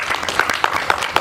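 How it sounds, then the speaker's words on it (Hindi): Brief burst of audience applause at a certificate distribution seminar, greeting a newly appointed president, with scattered claps close together and fairly loud, no talk over it. "इस बार मैं चाहूँगा कि सर के लिए जोरदार तालियां बजा दें बार आप।"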